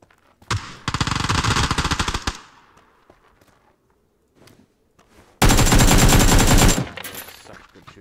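Two long bursts of rapid automatic gunfire in a video game, loud and close, separated by a quiet gap with faint scattered shots.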